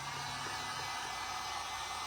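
A hair dryer blowing on a terracotta planter pot coated in chalk paint: a continuous, even, airy whir held steady throughout, with no voices.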